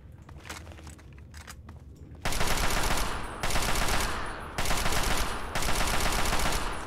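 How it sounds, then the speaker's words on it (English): Automatic gunfire in the video game Fallout 3 rattles through a quieter opening, then breaks into four loud, sustained bursts separated by short gaps. "I guess they are so used to gunfire that they just didn't care."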